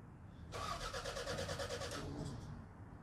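A 30-year-old Toyota MR2 with 270,000 miles has its starter cranking steadily for about a second and a half in an even, rapid rhythm, close up and fairly quiet, without catching.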